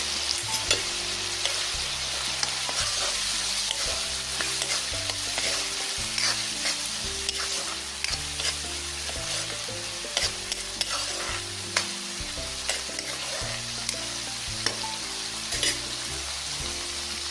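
Potatoes and poppy seed paste are stirred in a hot pan, with repeated close scraping strokes in a steady rhythm over a soft, constant sizzle.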